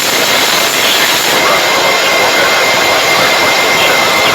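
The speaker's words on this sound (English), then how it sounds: "The aircraft is now slowing down more and more." Jet aircraft engines roar steadily as the plane slows after landing, a loud continuous broadband rush with no speech throughout.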